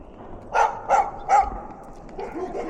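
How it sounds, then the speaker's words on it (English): Dogs bark outdoors along a road, three distinct barks spaced about half a second apart, somewhat distant and moderately loud, followed by fainter yips and whimper-like sounds. "those dogs are still barking"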